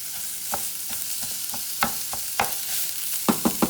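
Meat browning in a frying pan on the stove, a soft steady sizzle broken by irregular sharp scrapes and taps of a utensil against the pan, close and alone without voices.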